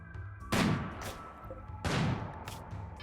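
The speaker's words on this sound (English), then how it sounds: "Uranium slug turret, doing some work." A uranium slug turret fires in RimWorld, two heavy booming shots about a second and a half apart, each followed by a short sharp crack, loud over quiet game ambience.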